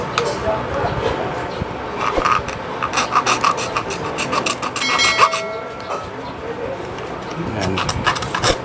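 A hacksaw cuts by hand through a small part for a hair clipper switch, giving a steady rasping rhythm of back-and-forth strokes up close. Faint speech sits under the sawing.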